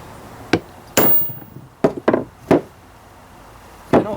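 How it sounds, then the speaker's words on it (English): Hammer blows while installing the front main seal on a Ford 800 tractor: six sharp metallic knocks in an uneven rhythm, loud and close, with quiet gaps between. "Maybe I should get a bigger hammer."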